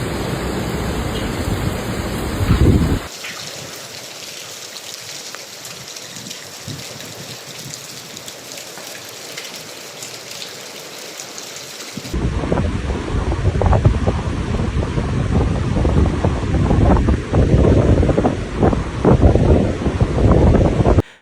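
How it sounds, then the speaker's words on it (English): Roaring wind during Typhoon Bavi in Zhejiang, China, loud and continuous with a steady rushing roar, dropping briefly to a thinner hiss before surging back even stronger, buffeting the microphone. "哇，这风速超强，前面的东西都看不到了"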